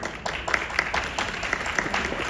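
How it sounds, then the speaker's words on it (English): Audience applause at an education talk, given as a quick round for the two technicians at the back of the room; a steady wash of clapping with scattered sharper claps, moderately loud throughout. "get a quick round of applause for them"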